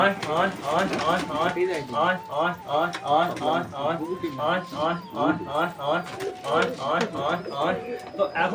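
Pet pigeons cooing in a steady, close chorus of repeated rolling coos that overlap continuously with no pause.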